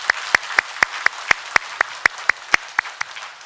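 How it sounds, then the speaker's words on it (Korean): At a Thanksgiving Sunday church service, the congregation claps in firm unison, about a dozen sharp, evenly spaced beats in a steady rhythm, loud and close, with no talk over them. "감사의 박수 크게 올려드리겠습니다"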